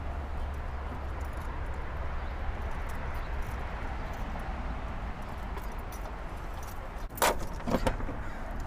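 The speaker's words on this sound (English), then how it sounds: "the keyhole is always like spinning around, so you have to get the key in right" A key ring jangles up close while unlocking the door of a 1993 Chevy truck, a short burst of metallic clinks near the end over a steady low background rumble.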